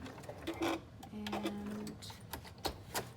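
A sewing machine back stitches a fabric binder pouch, its motor whirring in short mechanical bursts with clicking stops between runs, close and fairly quiet, a brief spoken word at the start.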